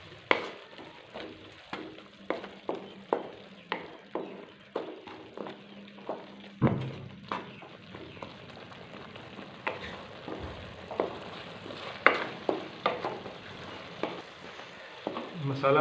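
Masala spiced with salt and turmeric is mixed and fried in a pan, with a soft sizzle under a rhythmic series of spoon knocks and scrapes as it is stirred.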